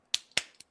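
Three sharp, close hand claps in quick uneven succession, the last one softer, each a crisp isolated crack against near silence.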